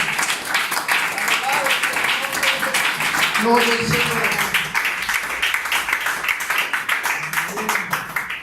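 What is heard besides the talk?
church congregation applause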